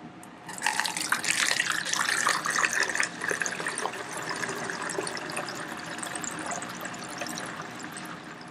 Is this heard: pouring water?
yes